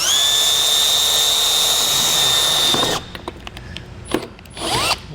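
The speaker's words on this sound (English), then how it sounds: "just take a 1/4-inch drill bit, and you're going to just want to start drilling out the center" A power drill with a 1/4-inch bit whines loudly and steadily as it drills out the center of a rivet while a trailer hitch is installed on a 2019 Chevrolet, then stops abruptly, followed by brief clicks and a short burst of drilling.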